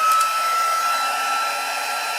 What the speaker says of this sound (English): It shouldn't take too long because I only used the heat tool again recently, so it will be quite warm.